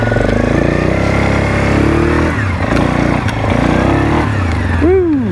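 A 2007 Suzuki King Quad 750 ATV with worn, treadless tires revs hard and spins its wheels, a loud, close engine roar that rises and falls, ending in a sharp rev.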